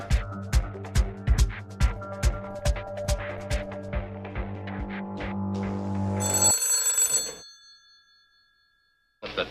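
An old telephone bell rings in repeated rapid bursts, loud and close, then shifts to a higher tone before stopping abruptly into silence, with no voices.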